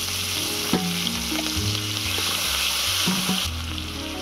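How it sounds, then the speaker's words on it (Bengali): Chopped onion fries in mustard oil in a wok, giving a loud, continuous sizzle up close, with occasional stirring scrapes and faint utensil knocks. "এবারে দিয়ে দিচ্ছি পেঁয়াজ কুচি"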